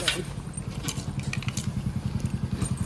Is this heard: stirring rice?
no